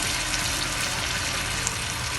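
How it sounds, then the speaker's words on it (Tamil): Water is poured into a pan of chopped beetroot cooking for poriyal, a steady close splashing pour lasting a couple of seconds with no other sounds. "இது முழுகிற அளவுக்கு நம்ம கொஞ்சம் தண்ணி ஊற்றிக்குவோம்"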